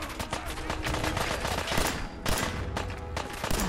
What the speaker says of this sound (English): I guess I'll just go guns blazing.